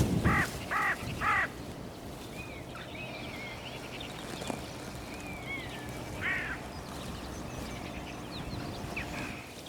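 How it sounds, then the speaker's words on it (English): Three hooded crows call from a tree about 30 yards away in open country, giving a quick burst of three harsh caws at the start and another later. Fainter birdsong and outdoor ambience continue underneath. "Three hooded crows have just landed in a tree about 30 yards in front of me."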